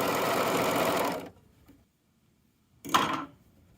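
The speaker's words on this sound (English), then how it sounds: "So I started with my less intense curve. I'll just sew off." A serger sewing machine stitches fabric in a fast, loud mechanical whir for about a second, then stops, followed by a second short burst after a quiet pause.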